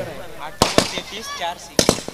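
Firecrackers burst to welcome dignitaries at a local tennis-ball cricket tournament match in Pisarve, Panvel: two pairs of sharp, loud cracks ring out over crowd noise and a commentator's voice.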